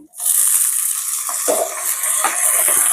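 Meat fries in a hot pan with a loud, steady, close sizzle, broken by occasional rattles as it is stirred.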